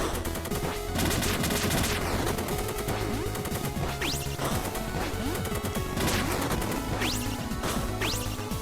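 Rapid gunfire in the video game Heritage A Dragon's Tale, a loud relentless barrage of shots and crashing impacts with whooshing streaks, continuous and dense throughout without talking.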